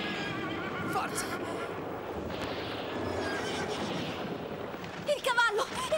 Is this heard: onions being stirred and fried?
no